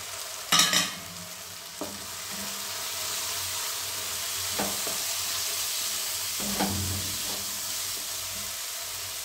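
Cumin and coriander powder frying in hot oil for a broccoli curry, a steady sizzling hiss with a sharp burst of spatter near the start and a few soft stirring knocks, no talk.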